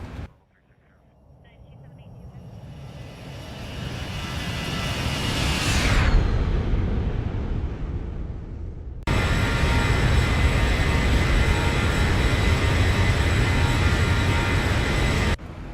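A Zibo 737 jet passing by in a flight simulator: a roar building steadily to a peak with a falling whine, then a sudden cut to a steady loud engine drone.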